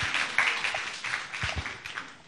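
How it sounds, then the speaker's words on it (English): Faint, steady applause from an audience at a film premiere event in an auditorium, heard from a distance as a soft continuous patter with no voices over it. "another round of applause"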